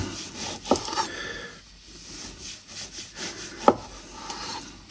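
A knife cuts through vegetables on a wooden cutting board while preparing Brazilian vinagrete salsa, giving a few distinct sharp chops with soft rubbing, scraping strokes between them. The sounds are close and clear, with no talking.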